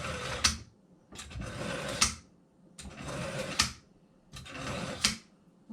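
Four even back-and-forth strokes of a fillet knife through a pull-through sharpener, each a close, gritty rasp ending in a brighter snap as the blade leaves, with brief pauses between strokes and no talking.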